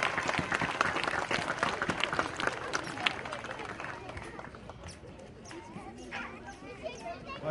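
Audience applause greeting the mayor as he is invited onto a stage at a public event, sustained clapping that gradually thins out, with voices and a dog barking mixed in.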